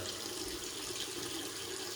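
Water runs steadily from a turned-on bathroom tap into a sink during a wet shave, a continuous close hiss and splash with no talking.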